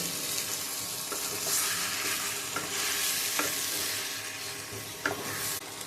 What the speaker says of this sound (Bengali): এইভাবে আমি আরও খানিকটা কষিয়ে নেব অলরেডি দেখুন বন্ধুরা আমার কিন্তু মশলা থেকে তেল ছাড়তে শুরু করে দিয়েছে